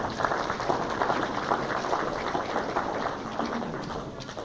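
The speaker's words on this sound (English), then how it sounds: "Round of applause for Troy." Crowd applause at a racing awards event, a continuous even wash of clapping throughout, moderately loud, with no clear speech over it.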